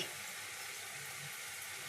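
Small pea lentil fritters (bora) frying in oil give a continuous soft hiss and crackle, even and quiet throughout, with no voices.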